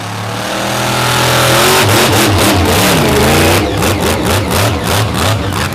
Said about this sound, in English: But this truck sounds awesome every time it blasts by.